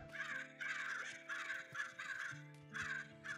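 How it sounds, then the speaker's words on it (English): Crows caw repeatedly in the game Life in the Village 2, in short bursts of harsh calls over a steady synthetic background tone, fairly close and alone without talk. "They're saying bird things."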